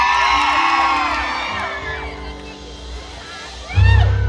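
Fans at an outdoor concert beside a temple in Samut Sakhon cheering for a singer, with loud whoops and shouts over a crowd murmur, ending in a sudden burst of bass-heavy noise.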